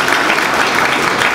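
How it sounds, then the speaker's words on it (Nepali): An audience at a royalist rally in Nepal claps in a brief, dense burst of applause, many hands together filling the whole moment. "ताली बजाउनुस् उसको लागि।"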